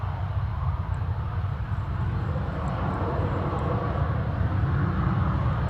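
A jet taxies at Manchester Airport, its engine producing a steady, broadband low rumble with a constant drone that neither builds nor fades, heard from a distance with no voices.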